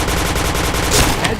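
Rapid gunfire from the online shooter Point Blank, a dense continuous burst of automatic shots with a couple of sharper hits near the end, loud and close.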